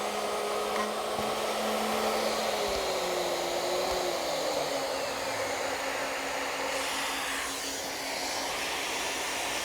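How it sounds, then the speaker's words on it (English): A router cutting a mortise through a smaller-window template in a wooden post for a pedestal table, a loud steady high-pitched whine and hiss that holds continuously throughout. "Now I'm going to install a template with a smaller window and"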